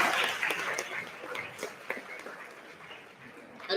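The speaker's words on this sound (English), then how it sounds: "Can we get a round of applause for the teams?" Applause for the debate teams at a university English debate grand final, a moderate, fairly distant patter of clapping that rises briefly and gradually thins over a few seconds.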